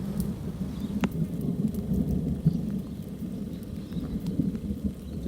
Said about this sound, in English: Afternoon storm just came in.